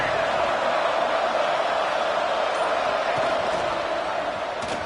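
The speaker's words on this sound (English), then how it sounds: "Listen to the crowd energy here in the early going." A stadium crowd at a college football game roars in a dense, continuous wash of cheering that stays loud and steady throughout.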